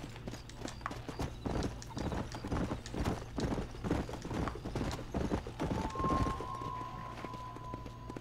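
Rapid hoofbeats of a galloping horse in the video game Red Dead pound in a steady rhythm, with a brief whinny and a thin electronic tone toward the end.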